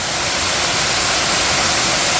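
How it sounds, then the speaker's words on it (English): Loud, dense roar of an Alabama waterfall, a constant wash of falling water heard up close without pauses or voices. "Behold the waterfall here."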